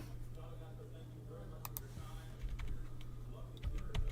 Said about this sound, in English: Dude, my Z button doesn't work on my keyboard.